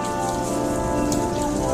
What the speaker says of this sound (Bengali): রাস্তায় দেখো নেমে গেল বৃষ্টি